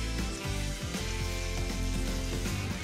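Brisket searing on medium-high heat in a hot pan, a steady close sizzle and crackle of fat frying without pause.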